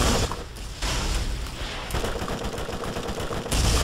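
Rapid automatic gunfire rattles in dense bursts during a Borderlands co-op session, loud and close, with a brief break near the start and continuous firing through the rest.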